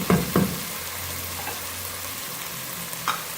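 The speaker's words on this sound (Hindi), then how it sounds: "अब इसमें पानी शामिल करेंगे" White black-eyed beans sizzle and fry steadily in a pot for lobia curry, with a few sharp clunks of a spoon or pot at the start and near the end.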